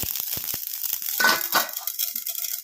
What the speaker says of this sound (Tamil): கிராம்பம் கூட பட்டு பட்டுன்னு தெரிக்குங்க